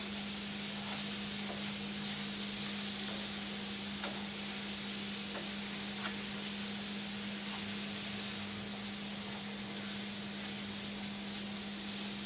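Zucchini and onions sizzle steadily in a pan while cooking for shrimp hibachi, a constant close frying hiss with a few faint clicks and a low steady hum underneath, no talking.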